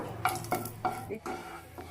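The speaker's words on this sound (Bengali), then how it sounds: "চিনিটা ভালো করে গলিয়ে নেব" A spoonful of sugar melts in hot oil left over from frying potatoes, stirred in a pot for a mutton curry. Several distinct scraping strokes of the spoon sound over a faint sizzle, close and fairly quiet.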